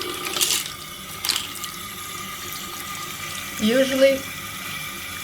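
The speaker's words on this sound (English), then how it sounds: "now I'm gonna wash all my brushes to remove this soap from them" Tap water runs steadily into a sink while makeup brushes are washed, with louder splashing surges as brushes pass under the stream and a brief spoken word.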